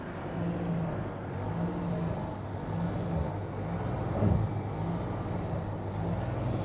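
A Ford Maverick Tremor pickup works its way up a muddy off-road hill, its engine droning steadily at close range with a low, continuous rumble and brief louder surges as the tires push through caked mud.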